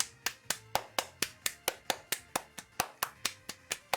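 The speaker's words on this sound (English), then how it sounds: "But now we have tentacle claps." Tentacle clap emote in a video game, a regular series of about sixteen crisp, evenly spaced claps at a steady tempo, close and clear over a faint low background tone.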